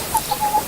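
A chicken on a small farm gives a few short, soft clucks in quick succession, fairly close, with no talking.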